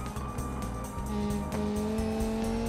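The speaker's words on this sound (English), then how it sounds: "I hear a car coming." A car engine in the driving game BeamNG drones steadily with harmonic tones, its pitch rising slightly midway as it draws nearer, with no talk over it.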